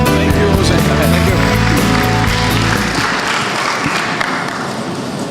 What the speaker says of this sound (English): Thank you to the two people that clap.